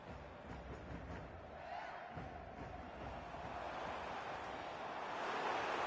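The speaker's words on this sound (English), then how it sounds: "The crowd encouraging him to take it on." Steady crowd roar from a football match in the EA Sports FC 25 video game, a continuous wash of cheering and encouragement that swells slightly toward the end.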